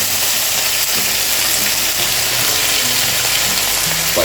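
Chopped chicken frying in a hot pan for a Kerala chicken stew, a loud, dense, unbroken sizzle close by, with faint clinks of a utensil underneath.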